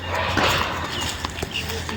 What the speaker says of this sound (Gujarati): જો એમના બે કૂતરા